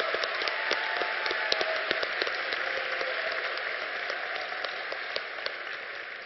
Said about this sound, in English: Please join me in giving a round of applause to these great supporters.